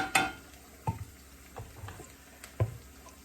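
Steamed radish frying in a pan with cumin tempering and green chili: a few sharp spatula clanks against the pan at irregular intervals over a faint, low sizzle, with no voices.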